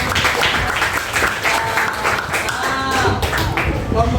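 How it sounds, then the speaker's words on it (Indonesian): Students in an Indonesian classroom clap for a group after its score is announced: a brisk, crowded patter of hands close by, with some voices mixed in underneath. "Tepuk tangan."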